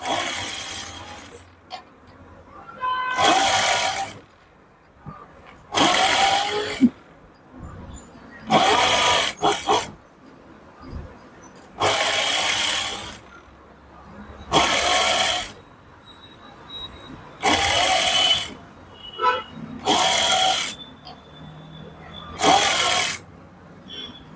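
A sewing machine stitches piping onto the back of a blouse in about nine short, even bursts of whirring, each a second or two long, separated by brief pauses, close and fairly loud.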